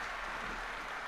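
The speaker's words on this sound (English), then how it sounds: "Give them a round of applause for making the game." An audience at the Destiny 2 launch premiere claps in a dense, steady burst of applause that fills the whole moment, with no distinct voices.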